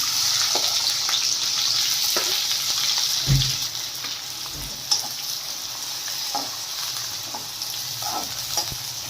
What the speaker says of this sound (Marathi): लांबसर कट करून घेतलेला आहे कांदा ती मी कांदा टाकत आहे आता